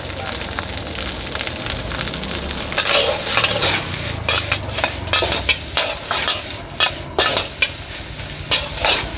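Fried rice with naem is stir-fried in a wok at a Thai roadside made-to-order stall, with a steady sizzle under repeated sharp scrapes and clanks of the spatula against the pan, close and loud.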